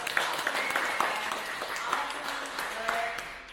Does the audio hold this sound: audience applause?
yes